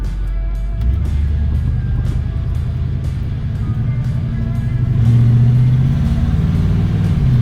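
A 1990 GMC Jimmy 4x4's 5.7 EFI V8 engine idles and revs with a deep, mellow rumble, rising in pitch and loudness partway through, close and steady.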